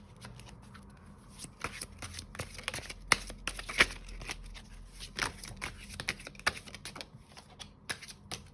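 Tarot cards being shuffled up close, a quick run of crisp riffling clicks and flutters in irregular bursts, with no talking.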